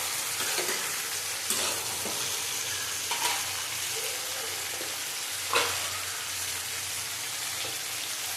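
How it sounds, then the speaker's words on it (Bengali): Vegetables such as pointed gourd and bitter gourd frying with prawns in a pan for shukto give a constant, hissing sizzle, with a few faint stirring scrapes dotted through it and no voices. "বেশি ভাজবো না, এর সাথে সবজিগুলি দিয়ে দিলাম।"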